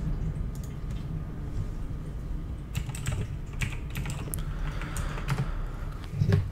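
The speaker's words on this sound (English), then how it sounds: "I'm just going to Google, typing in ApointB" Typing on a computer keyboard during a live website-building demo, a run of quiet irregular key clicks over a low steady room hum, with a few sharper taps toward the end.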